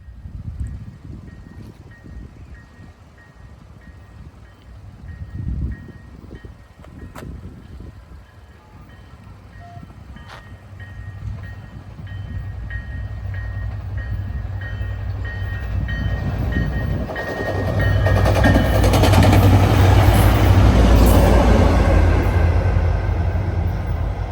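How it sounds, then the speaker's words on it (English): A southbound SunRail commuter train passes near Orlando, building from a low distant rumble into a loud, close roar of rolling wagons over the second half, with a faint horn-like tone early on. "I come across another southbound Sunrail who's taking track 2 because 457's on track 1."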